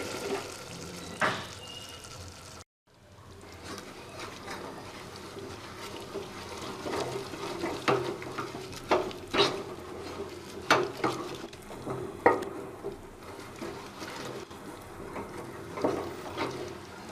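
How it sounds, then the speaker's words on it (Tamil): Cooked moong dal being mashed in a pot with the flame turned off, for a Tamil paruppu kulambu: close, continuous wet squelching and scraping with irregular louder strokes after a brief silent gap. "ஃப்ளேம் ஆஃப் பண்ணி நீ கடைஞ்சி எடுத்துக்கலாம்."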